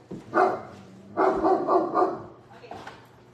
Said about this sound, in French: Des fois, il jappe après le cabanon.